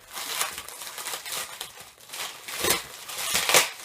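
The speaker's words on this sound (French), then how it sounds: "on va procéder au déballage du premier colis, donc le plus petit" A small parcel of fireworks is unwrapped, its packaging crinkling and rustling continuously up close, with louder crackling bursts toward the end.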